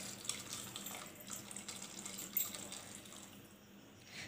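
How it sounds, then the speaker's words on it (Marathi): Hot water is poured into a pan of egg curry, giving a soft, continuous splashing pour at close range with faint background noise. "आता हे गरम पाणी त्याच्यामध्ये टाकते."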